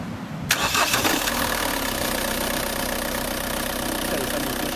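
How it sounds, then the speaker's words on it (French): An engine cranks and catches, then settles into a loud, steady idle that runs close by to the end. "je vais faire démarrer le moteur comme ça vous allez voir"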